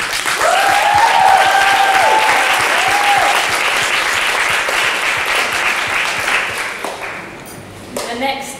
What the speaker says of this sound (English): can I have a round of applause for the guys on the panel?